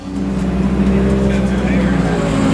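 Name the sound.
race cars on track at Pacific Raceways, 24 Hours of Lemons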